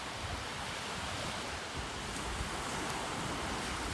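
Ocean surf at the shore's edge, a constant faint wash of breaking waves with soft low rumble and no distinct separate crashes.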